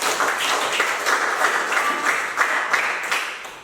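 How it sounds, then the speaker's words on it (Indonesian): A short burst of applause from a small classroom group, steady clapping that fades slightly at the end. "tepuk tangan untuk Carlos."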